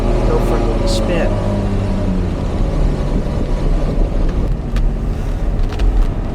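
A 1991 Ferrari Testarossa pulls away in first gear through its dog-leg gearbox, a steady low engine drone and road rumble heard from inside the cabin, continuous and fairly loud with no talking.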